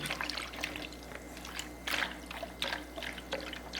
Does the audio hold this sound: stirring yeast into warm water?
yes